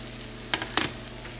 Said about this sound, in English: take our plastic spoon and we're going to, kind of fold them, mix them over.